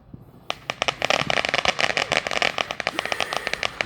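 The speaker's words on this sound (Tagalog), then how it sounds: "At lumalatag na po ang dilim, kaya marami na pong nag-i-start na ng fireworks." Fireworks going off at dusk give dense, rapid crackling bursts and sharp pops, loud and close, continuing without pause and with no talking.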